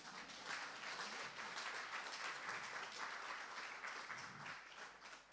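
A church congregation applauds to acclaim the Lord, a dense, steady wash of many clapping hands that stays loud and unbroken from start to finish.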